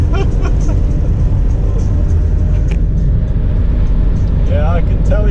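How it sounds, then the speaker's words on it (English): A diesel vehicle accelerating on a road trip in Europe, a loud continuous engine drone and road roar heard from inside, with brief voices speaking over it. "I can tell you're accelerating, that's for sure"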